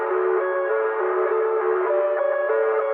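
A song outro runs through a low-pass filter cutoff effect, leaving muffled, steady sustained synth or guitar tones with the highs stripped away, playing alone at a moderate level.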